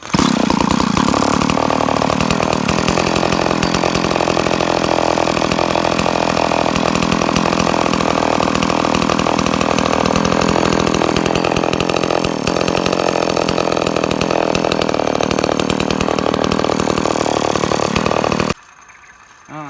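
Close, loud Kyoritsu 452 VLD chainsaw engine in for repair idling with a raspy, sputtering buzz that runs steadily, then cuts off abruptly near the end.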